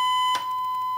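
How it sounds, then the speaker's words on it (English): A steady square wave from a BK3017A sweep function generator sounds as a continuous, buzzy electronic tone at one fixed pitch for the full second, with a brief noisy click partway through. "We have a square wave signal, square wave,"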